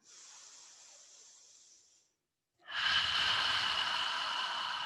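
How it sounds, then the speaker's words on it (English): Slow, deep breaths during a mat Pilates exercise, one long hissing exhale that fades out, a short pause, then a louder, fuller breath that holds steady, close and breathy with no talking. "Let's do a couple more breaths here"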